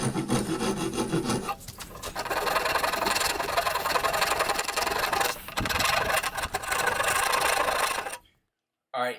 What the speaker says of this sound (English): now I am working on the riser, and I'm just taking those saw marks out, and then I'll just kind of round it